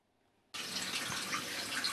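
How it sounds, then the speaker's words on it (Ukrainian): A thin stream of water runs from a household tap in Smila, Ukraine, during scheduled water rationing; a steady, close hiss starts abruptly after half a second of quiet and continues evenly, with no voices. "За тоненьким струменем води з крану"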